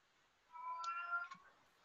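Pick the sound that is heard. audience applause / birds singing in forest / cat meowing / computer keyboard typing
cat meowing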